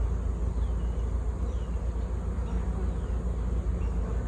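A large honeybee swarm, big enough to fill two nine-frame supers, buzzes steadily and densely up close, a continuous low hum with no talking.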